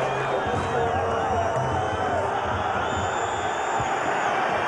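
Football supporters in a stadium crowd boo during a match, a sustained loud roar of jeering voices with rising and falling bellows and shouts.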